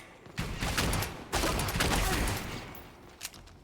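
Long-range shotgun blasts and reloading in Dirty Bomb come in a few rough bursts of fire with mechanical clatter between, fairly quiet and distant in the mix with no talk.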